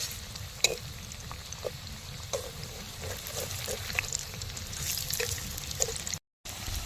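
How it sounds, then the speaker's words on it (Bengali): Cauliflower pieces frying in a pan as they are turned, a steady sizzle with intermittent scraping clicks and light splashy bursts, then a short gap. "ফুলকপিগুলোকে আমি উল্টে নিচ্ছি সুন্দরভাবে লাল লাল করে ভেজে নিই ফুলকপিগুলো"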